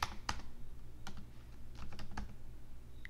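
Someone types a search into a computer keyboard: quiet, irregular keystrokes and clicks in short bursts, close by, with no talking.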